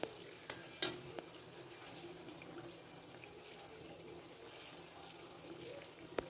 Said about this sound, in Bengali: এরকম একে একে আমি ছেড়ে দিচ্ছি, মিডিয়াম ফ্লেমে রেখে যতক্ষণ না এটা গোল্ডেন হচ্ছে এটা করতে থাকবো।